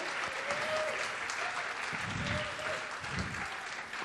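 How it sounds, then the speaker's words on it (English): Audience applause for high school student musicians at a Martin Luther King Jr. Day event, soft and fairly distant, steady throughout, with murmuring voices and low rumbling bursts midway. "a big round of applause for them under their own direction"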